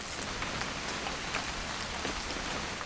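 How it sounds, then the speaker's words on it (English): Steady rain pours down in What Remains of Edith Finch, a dense even hiss of drops with no pauses, fairly close and filling the whole stretch. "It's gonna rain the whole weekend,"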